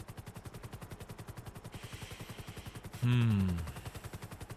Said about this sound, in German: Die schießen auf uns, die schießen auf uns.